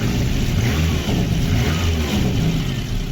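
A car engine converted to run on LPG, with a worn camshaft, runs steadily and loud, a constant low rumble with a slight rev swell, no voices.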